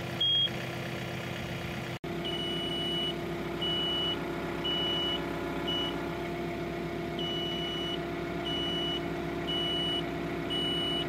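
An R series tractor backs up slowly, its engine running steadily while a reversing alarm gives evenly spaced beeps after a brief stop near the start.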